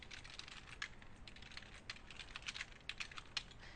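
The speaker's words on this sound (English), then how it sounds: "we're going to type efashion webby instance" Typing on a computer keyboard: a quiet, steady run of light, close key clicks with a few sharper taps, no voices present.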